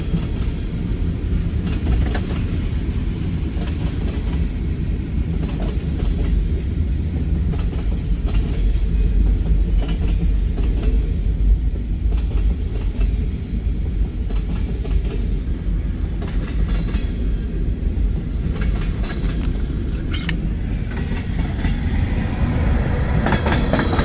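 CSX freight train led by three locomotives rolling past near Resaca, Georgia: a sustained heavy rumble and rhythmic clatter of wheels over rail joints, loud and close for the whole stretch.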